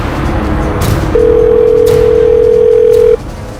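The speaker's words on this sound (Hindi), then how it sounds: "रिंग जा रही।" An outgoing telephone call produces a steady ringback tone in a crime drama scene, sounding as one unbroken tone of about two seconds over a low background hum.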